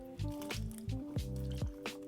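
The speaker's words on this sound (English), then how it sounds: "The first thing I'm gonna do is wash my strawberries in cold water." Fresh strawberries are rinsed in cold water, giving soft wet squishes and drips in about five quick, uneven bursts, close and quiet.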